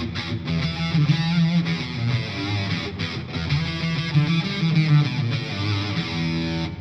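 An electric guitar plays through an analog octave fuzz pedal with germanium diodes, producing a dense, heavily distorted, buzzy tone as chords and notes ring out continuously without any talking.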